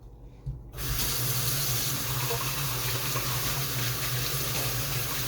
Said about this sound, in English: Now I gotta rinse out these bowls